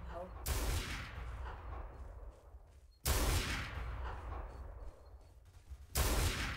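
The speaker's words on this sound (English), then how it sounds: "I'm just gonna snipe him. Just gonna kill him right through." Three loud, booming sniper rifle shots from the Garry's Mod M9K weapons addon, spaced about three seconds apart, each followed by a long, rumbling echo tail.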